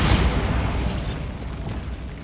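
Bombarda blasting spell going off in the video game Hogwarts Legacy, a loud booming explosion with a sharp burst at the start that rolls into a rumbling decay, heard alone.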